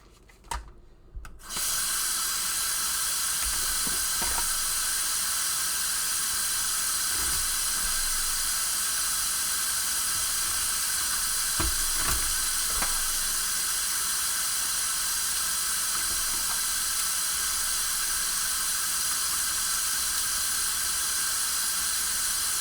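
Tap water runs steadily into a kitchen sink during hand dishwashing, a continuous close hiss and splash with faint clinks of dishes, with no talk.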